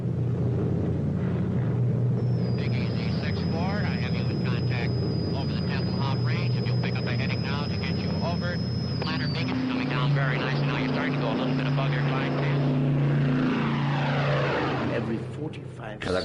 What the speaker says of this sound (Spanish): aviones procedentes del oeste sobrevolaban Kleinmachnow, la academia más importante del partido, para aterrizar en Tempelhof.